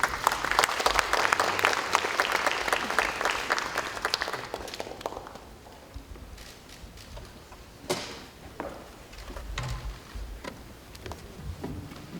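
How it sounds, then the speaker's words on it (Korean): A room of lawmakers and party staff at a Democratic Party assembly claps loudly and densely, then the applause thins into scattered claps, shuffles and a few sharp knocks. "큰 박수 부탁드립니다."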